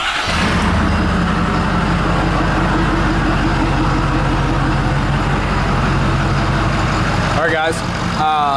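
A Ford F250 pickup's 6.7 Powerstroke diesel engine with a big non-VGT turbo idles with a steady, heavy rumble and rhythmic chug that holds throughout, with a brief clatter near the end.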